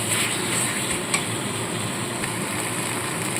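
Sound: sautéing spice masala for tangra fish curry

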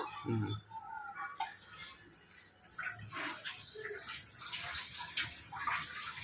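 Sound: washing gongura (sorrel) leaves in water

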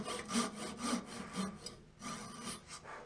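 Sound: sawing wood with a Japanese pull saw

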